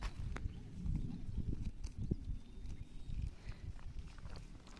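Khillar cattle from a village herd in Salgare walk past on foot, their hooves giving close, irregular clip-clop thuds over a steady outdoor background with no talking.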